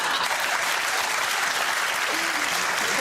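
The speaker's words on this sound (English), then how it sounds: "Not everyone applauding." A studio audience applauds in a steady, dense wash of clapping that holds at an even level throughout, close and fairly loud.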